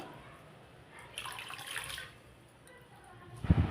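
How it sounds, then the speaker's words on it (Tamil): Water is poured into a mixed rasam masala of tomato and spices, a soft splashing trickle that swells for a moment and fades, followed by a louder clatter of a vessel at the end. "உங்களுக்கு தேவையான தண்ணீர் சேர்த்துடலாம்"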